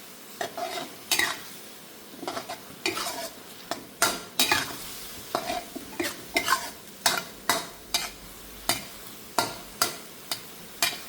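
Pad thai rice noodles are stir-fried in a wok: a spatula scrapes and tosses in a rhythmic run of sharp strokes over a soft, constant sizzle.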